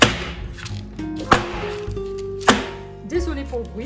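A tray of freshly piped macarons is rapped against a countertop, giving several sharp, loud knocks with pauses between them, while someone talks throughout.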